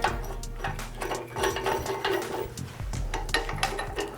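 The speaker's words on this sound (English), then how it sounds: "everything threads in nice, so that feels good" Head bolts are slid and threaded into a Jeep 4.0 engine block during a head gasket job, giving close, continuous metallic clicking and ratcheting with small rhythmic scrapes.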